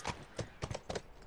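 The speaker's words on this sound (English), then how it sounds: "Wants to get back on this horse and giddy up" Horse hooves clip-clop in the video game The Last of Us, four evenly spaced pairs of moderate, close hoof strikes in a steady walking rhythm.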